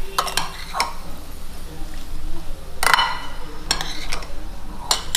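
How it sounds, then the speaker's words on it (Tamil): Avalakki puttu ingredients mixed in a metal pot, with a few sharp clinks and scrapes of a spoon against the pot spaced through a quiet background. "இதை நல்லா மிக்ஸ் பண்ணிவிடுவோம்."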